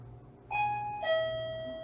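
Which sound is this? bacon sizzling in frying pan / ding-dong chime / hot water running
ding-dong chime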